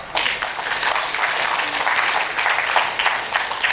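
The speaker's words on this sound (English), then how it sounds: "Let us welcome him with a sound applause." A hall audience applauds steadily to welcome a guest taking the chair at a jubilee celebration curtain raiser, dense sustained clapping throughout without a break.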